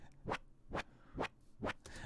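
Synthesized zipper-like noise for techno sound design, built from fast-modulated noise with distortion: four evenly spaced sweeping bursts, each a quick rasping zip, crisp and close with near silence between them.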